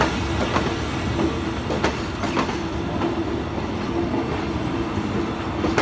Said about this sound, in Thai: เป็นรถนอนปรับอากาศนะครับผมด่วนพิเศษนะฮะกรุงเทพเชียงใหม่